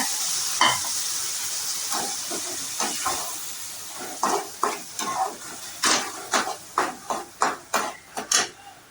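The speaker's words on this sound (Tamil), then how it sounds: "அரைச்சி வச்ச மசாலாவை சேர்த்துக்கோங்க" Ground masala with turmeric sizzling in oil for a fish curry, a steady hiss broken by a run of rhythmic scraping stirs that grow quicker and louder toward the end, close by with no talking.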